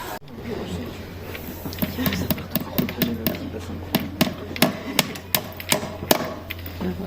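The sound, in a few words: hammering a nail into a tree trunk for a donation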